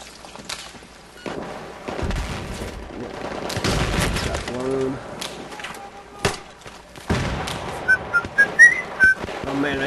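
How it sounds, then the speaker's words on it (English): Shotgun blasts and mixed gunfire in Battlefield 3 team deathmatch on the Grand Bazaar map, with several loud booming shots and scattered bursts amid game effects and chatter, with some speech present. "I got my shotgun out."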